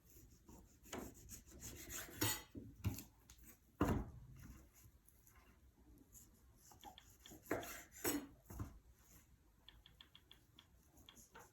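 A knife trims fat from the sides of partially frozen beef being readied for jerky, making faint scraping and cutting strokes in irregular bursts with a few sharper knocks, close and quiet.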